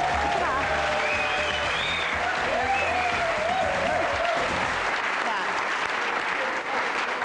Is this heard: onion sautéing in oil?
no